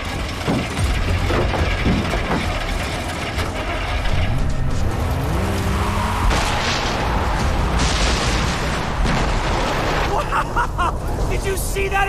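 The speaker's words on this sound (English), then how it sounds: "Did you see that explosion? What? Something exploded!" A loud explosion goes off in the video game Far Cry 3 amid dense in-game noise: rumbling booms, engine sounds and crackling debris fill the scene, with game characters shouting under it.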